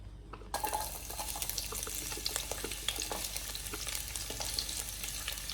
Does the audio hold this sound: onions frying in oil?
yes